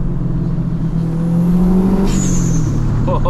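A turbocharged 470-horsepower Subaru Impreza STI with a built engine revs hard and high, its pitch climbing steadily before a sharp whistling burst near the end, loud and close.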